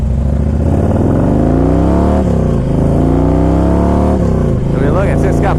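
A 2000 Harley Davidson Electra Glide Classic with nearly 80,000 miles runs close up, its loud engine rumbling and rising and falling in pitch with a few revs rather than holding a flat idle.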